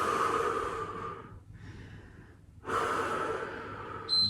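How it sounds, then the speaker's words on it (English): Big, forceful exhales from a person during a yoga HIIT workout, two long breathy gusts separated by a short pause, heard close with no talking. "Really big exhales."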